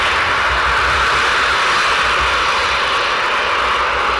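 A Eurofighter Typhoon at RAF Coningsby taxis during night operations, a loud, steady roaring jet-engine rumble with broad hiss, continuous and close throughout.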